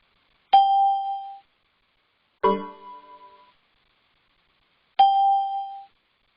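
A phone rings during an online class with three spaced electronic chimes, each a clear ringing tone, the middle one harsher and more metallic, set against otherwise silent air.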